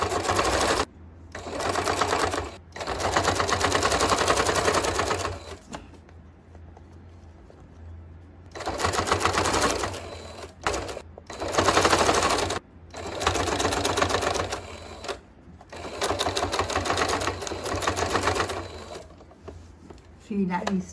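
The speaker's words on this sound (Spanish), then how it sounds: "Bajo el prensatela y comienzo la costura." Sewing machine running bias tape along the edge of a baby diaper, its rapid rattling stitching in several bursts of a few seconds each, separated by quiet pauses, close and loud.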